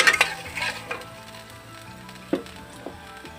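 Ginger paste and tomato sauce sizzle in a pan, with a few sharp utensil scrapes and clicks from stirring over a steady frying hiss, close and moderately loud.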